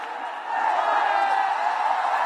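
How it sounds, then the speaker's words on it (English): A large cricket crowd at a Nepal vs Oman World Cup League 2 match keeps up a dense, continuous roar of massed voices that swells slightly after the first half second and then holds steady. "Crowds going gaga. They are chanting."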